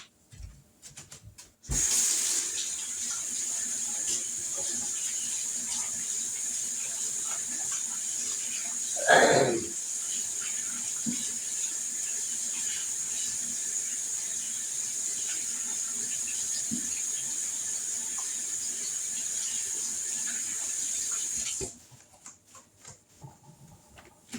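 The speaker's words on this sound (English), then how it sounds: "let me wash my hands" Steady running tap water pours into a sink for about twenty seconds while hands are washed in a kitchen, with a brief louder splash midway and quiet handling before and after.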